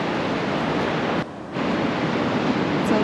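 Ocean surf breaking at Lennox Head, a steady broadband wash of waves, close and loud, with a brief dip in the roar partway through before it swells back.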